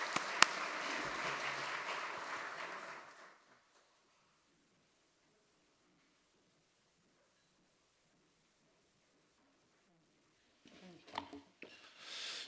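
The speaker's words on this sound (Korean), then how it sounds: "한번 감사의 박수 드리겠습니다." A church congregation at a Korean general assembly worship service claps in thanks. A few seconds of close, full applause taper off into near silence, and faint movement and voices return briefly near the end.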